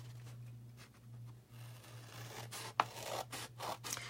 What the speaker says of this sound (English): but we're just gonna cut up those flaps.